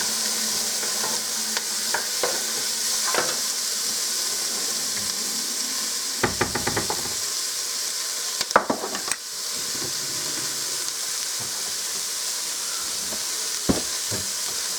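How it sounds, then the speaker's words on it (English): Peppers sautéing in a pot for macaroni and cheese soup, a continuous hissing sizzle with occasional utensil clicks and a brief burst of stirring scrapes, close and unvoiced. "And my peppers. Now I'm going to saute those for a little bit."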